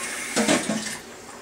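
Cut potatoes soaked in water are tipped into a pot of beans, making a brief watery splash and slosh that stands alone and close.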